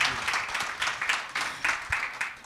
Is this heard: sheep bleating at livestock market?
no